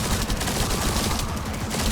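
Sustained automatic gunfire from The First Descendant, with the character Gley shooting: a dense, continuous stream of rapid shots, loud and unbroken, with no talking.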